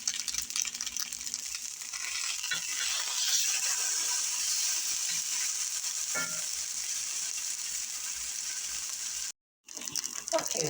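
Breakfast sizzles steadily in a frying pan, a constant crackling hiss with occasional stirring scrapes, near and fairly loud, broken by a brief moment of silence toward the end.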